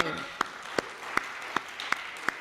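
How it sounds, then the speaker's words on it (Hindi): Applause from the audience at a Hindi kavi sammelan poetry gathering, a soft bed of clapping with a few sharp, evenly spaced louder claps, moderately close. "एक बार जोरदार तालियां।"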